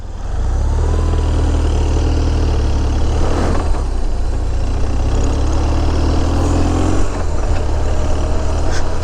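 A motorcycle with strong low-down power idles in first gear, a loud, steady low engine rumble held constant throughout with a couple of brief mechanical clicks and no voices.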